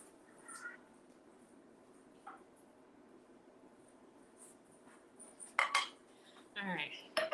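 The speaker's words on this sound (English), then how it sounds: "Let me get the glass." Glassware and dishes clink in a home kitchen as a glass is taken out, a few sharp bright knocks near the end over a quiet room background.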